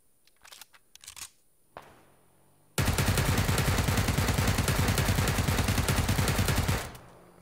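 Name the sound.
suppressed automatic rifle fire in a video game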